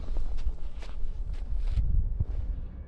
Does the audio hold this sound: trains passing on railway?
no